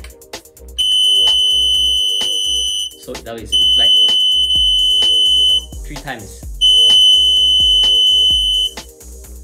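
An industrial digital production counter display sounds its alarm after hitting the target, three long loud electronic beeping bursts separated by short gaps, with a person speaking between them.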